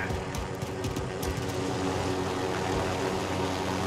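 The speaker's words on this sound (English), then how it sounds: "There's a floating fucking precision airstrike jet." A precision airstrike jet in Call of Duty Warzone on a farmland map drones overhead with a steady, loud engine roar and whine that holds throughout, with no speech.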